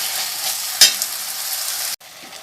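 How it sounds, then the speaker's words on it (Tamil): Tomatoes sautéing in a pan while cooking an egg curry, a steady close sizzle of frying with one brief sharp scrape of stirring, then the sizzle drops and quietens near the end. "தக்காளி சேர்த்து நல்லா தக்காளி நல்லா வதங்கட்டும்."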